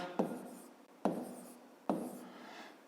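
Three sharp pen-on-paper writing strokes, each starting with a crisp tap and then scratching away, as a math problem from a fifth-grade exercise is written out by hand, close and quiet with no talk.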